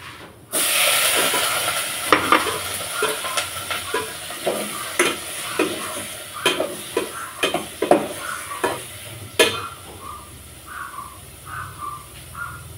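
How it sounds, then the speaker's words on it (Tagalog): Chicken pieces hit a hot pan already holding garlic and ginger and break into a loud, steady sizzle, with repeated scraping and stirring strokes from a utensil over the frying hiss. "Lalagay na natin yung chicken para mag-isa siya ng konti."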